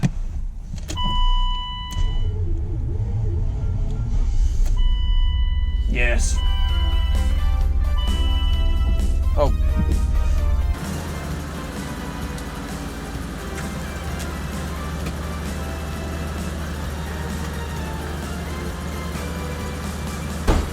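A BMW 850i V12 engine cranks with a starter whine, catches and settles into a smooth, steady idle, loud and close, with a couple of short spoken words early on.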